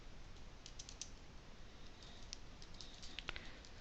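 Computer keyboard being typed on while writing JavaScript code, a quiet patter of soft key clicks scattered over steady background hiss, with no talking.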